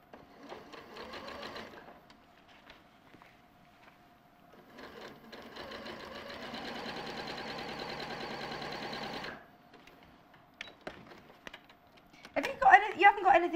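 A sewing machine fitted with a walking foot runs in bursts, stitching forward and back as a dress and tartan bag are sewn; a short run opens, then a long steady whir fills the middle, ending in clicks and handling noises, with a voice briefly heard.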